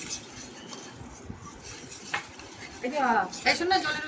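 Turmeric and onion mixed in a pan, with clinks and scrapes of a utensil against metal that grow busier toward the end, close and moderately loud.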